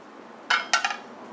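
Metal pot lid lifted off a cooking pot on a stove while vegetables cook, a few quick clinks and clatters of metal in close succession, close and clear against a quiet kitchen.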